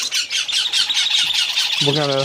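A baby gold-capped conure hatched in Alabama gives rapid, repeated shrill squawks close by, a steady rhythmic run of harsh calls ending in a longer, more tonal cry.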